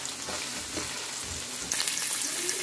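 Onion and green chilies fry in oil with a steady crackling sizzle and a few soft stirring scrapes, and the hiss grows sharper and louder toward the end.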